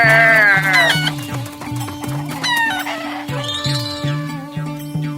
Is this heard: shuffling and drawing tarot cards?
no